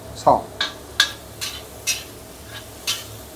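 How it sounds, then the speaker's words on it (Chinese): Stem lettuce vegetables are stir-fried in a pan: about seven sharp spatula clinks and scrapes against the pan at a roughly even pace, fairly quiet, with only a faint sizzle underneath. "我在炒菜，这是炒"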